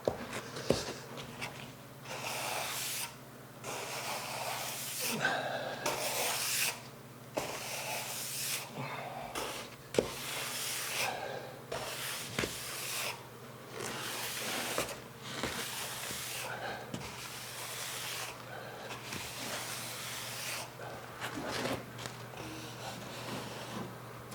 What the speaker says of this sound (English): Last thing I'm going to do is hit it with a flat trowel to smooth everything out.